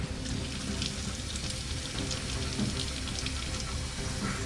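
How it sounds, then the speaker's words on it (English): Water runs into a bottle as it is filled, a steady close rushing splash that holds an even level throughout with no talking. "Fill it up with water."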